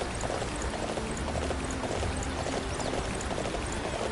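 A horse gallops in the video game Dynasty Warriors 9, its rapid hoofbeats blurred into a dense, steady rush of noise with no talking.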